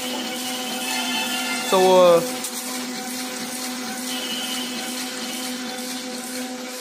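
A Ryobi 3302M two-color offset printing press runs at speed on thin colored paper, a steady mechanical hum with rhythmic tonal whine throughout, a brief louder warbling burst early on, and a voice speaking over it.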